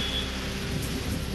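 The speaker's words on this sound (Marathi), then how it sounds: "अमरावतीमध्ये वादळी वाऱ्यासह पावसाची हजेरी" Rain lashing down with stormy wind in Amravati, a dense, steady roar of rainfall and gusts with no pauses, loud and close throughout the short stretch.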